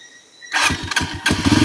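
A motorcycle engine, just repaired, cranks and catches after a quiet pause, then sputters into an uneven, loud running rumble up close.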